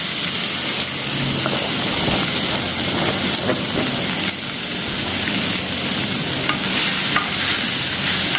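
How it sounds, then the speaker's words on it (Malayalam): Chopped vegetables tossed into hot coconut oil sizzle and hiss loudly in a pan, with steady frying noise and scraping stirs throughout, close by and without talk. "പിന്നെ നമ്മൾ ഈ അരിഞ്ഞ് വെച്ചതുണ്ടല്ലോ നമുക്ക് നേരെ ഇതിലേക്ക് ഇട്ട് കൊടുക്കാം."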